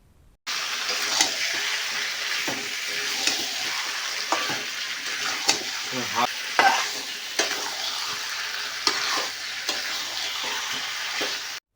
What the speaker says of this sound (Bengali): প্রথমে কড়াইতে ভালোভাবে মাংসটাকে কিন্তু কষিয়ে নিতে হবে।